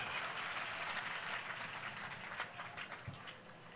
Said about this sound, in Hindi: इस बात पे ताली बजा सकते हो आप लोग।